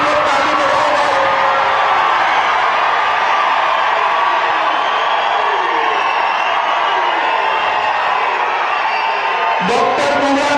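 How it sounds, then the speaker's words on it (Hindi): A large crowd at a political rally in Hyderabad claps and cheers in a loud, continuous roar that carries on without a break for the whole stretch. "माधवी के लिए सब लोग ताली बजाओ।"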